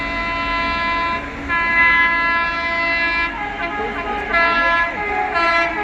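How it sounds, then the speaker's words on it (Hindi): Howrah Duronto Express overtaking a local train at speed, its horn blaring as a loud, sustained multi-tone blast over the rushing rumble of the cars, swelling and dipping for several seconds. "क्योंकि इस पीछे से आ रही है हावड़ा दुरंतो एक्सप्रेस।"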